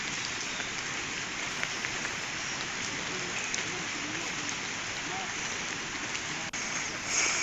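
Heavy monsoon rain pours steadily in the Polampalli area of Sukma, a dense continuous hiss of rainfall on surfaces that stays loud and unbroken throughout, with no voices.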